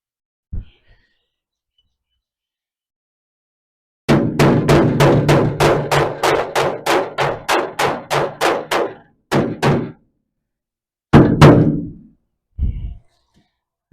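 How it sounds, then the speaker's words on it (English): A small hammer shapes metal on a 1937 Chevy hot rod build with a quick run of about a dozen sharp, evenly spaced metallic strikes, followed by a few scattered blows after brief pauses in an otherwise quiet shop. "I quickly shape it with my small hammer"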